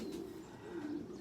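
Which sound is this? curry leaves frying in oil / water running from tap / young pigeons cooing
young pigeons cooing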